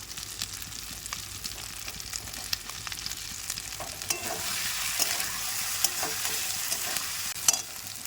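Chopped tomato and green chillies sauté in a pan during a home chicken cookout, giving a continuous close sizzle with frequent scraping and stirring sounds throughout.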